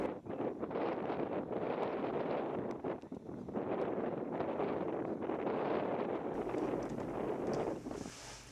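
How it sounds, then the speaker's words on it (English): Near-constant wind buffeting the microphone at an outdoor archaeological excavation site in Egypt, a dense rumbling roar with gusty swells, alone without talk. "You may notice the sound of the wind, which was almost constant when working on this site."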